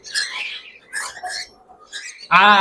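A tame cockatiel chick gives several short scratchy calls and ends with one loud, harsh drawn-out squawk, close by.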